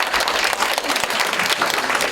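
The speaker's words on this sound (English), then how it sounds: "Round of applause for Edward." An audience at a Losar and Tsagan Sar New Year celebration in New York City claps for an artist, a dense, steady burst of applause filling the space without any speech.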